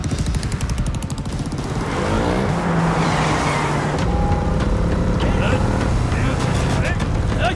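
A car pulls away with a loud, steady engine roar and some tire noise for the full stretch, in a tense scene from a South Indian action film.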